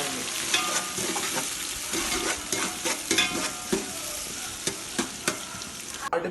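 Chopped onions and green chillies frying in a pan for mutton biryani, a steady oily sizzle with occasional sharp stirring scrapes, close and continuous with no voices.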